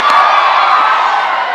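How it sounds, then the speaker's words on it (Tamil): Applause and cheering from a college audience at a speech event in Tiruchengode, a steady dense wash of clapping and crowd noise that stays loud and unbroken throughout. "பிரகாசம் சாருக்கு ஒரு பெரிய கைத்தட்டல் கொடுத்துடலாம்"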